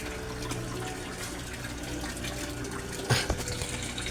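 A 17-watt aerator pump bubbles water in a koi fish tank, a steady close wash of burbling with a brief louder splash near the end, no talk.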